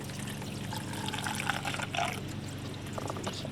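Blue and green engine coolant draining from a car water pump area, a steady faint liquid trickle and splash running continuously under low background noise, with no talking.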